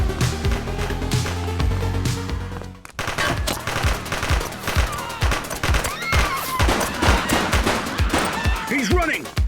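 Gunfire in the police video game The Precinct, rapid bursts of loud close shots that start after a shift in the background music and keep crackling steadily over the game score.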